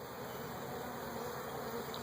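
Honeybees at an open hive during an inspection fill the air with a steady, even, close buzzing that holds without a break, with no voices heard.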